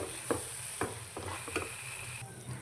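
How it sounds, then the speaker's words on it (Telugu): Drumstick masala curry stirred in a pan, a steady low sizzle broken by several soft scraping strokes of the spoon at a loose, uneven rhythm. "ఇప్పుడు మొత్తాన్ని కలుపు కలుపుకోవాలి"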